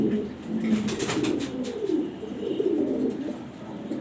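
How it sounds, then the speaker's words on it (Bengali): A male grizzle racer pigeon coos close by in repeated soft, throaty rolling calls, one after another without pause. "গ্রিজাল রেসার নর কবুতর খুবই সুন্দর"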